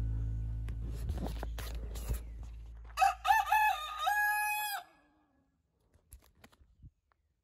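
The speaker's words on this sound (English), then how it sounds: "Chickens." A rooster crows loudly once, a long rising-and-falling call, after a burst of clattering noise; then near silence with a few faint clucks.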